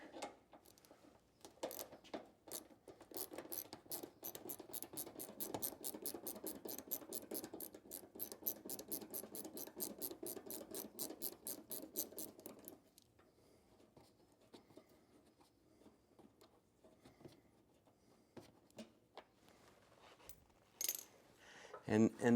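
Screw being backed out of a Chevy Silverado fender with a ratcheting tool, a long run of rapid close clicks for several seconds, then scattered faint handling noises and a few louder clicks at the end.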